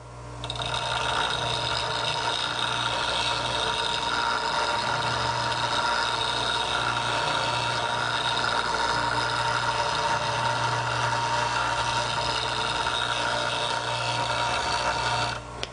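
A grinding wheel runs steadily while a woodturning tool is sharpened in a Vari-Grind jig, a continuous motor hum and grinding whir held at an even level throughout with no talking.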